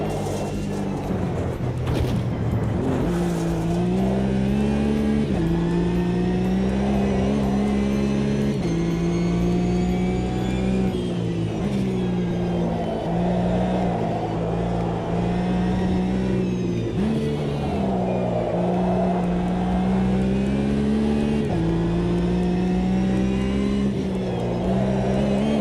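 A Porsche race car engine in a sim racing game, revving loudly and continuously, its pitch climbing and dropping with gear changes and throttle lifts, with no speech over it.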